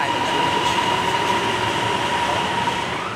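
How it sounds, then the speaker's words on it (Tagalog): An airport rail link train in Bangkok rumbles steadily nearby with a constant whine above the low roar, loud and unbroken for a few seconds. "Kada 5 minuto, may dumarating na tren."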